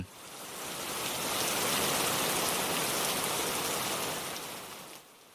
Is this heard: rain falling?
yes